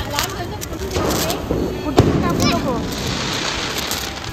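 Diwali firecrackers burst outdoors during a festive family gathering, with a sharp loud crack near the middle among scattered pops and a steady crackling background, while voices murmur underneath.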